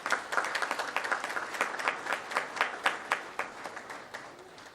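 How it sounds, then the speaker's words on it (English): An audience at an indoor conference on future mobility and energy gives a round of applause, with fairly faint clapping that swells in pulses and tapers off near the end; no voices are heard. "Another round of applause for Dr."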